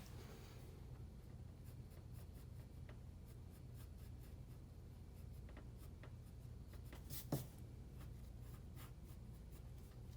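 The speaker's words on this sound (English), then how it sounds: "we'll erase the line there and we'll erase the line at the base" Pencil lines on a vase drawing being erased and drawn over, a soft, continuous scratchy rubbing on paper with one brief sharper stroke, close and quiet with no talking.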